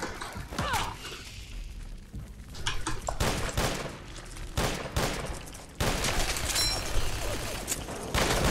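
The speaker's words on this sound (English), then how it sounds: "There is something satisfying about just rapid firing a rifle." Rapid rifle fire in Fallout 4: a dense volley of sharp, loud gunshots in quick succession, with heavy thuds and clattering mechanisms mixed in, continuing throughout without speech.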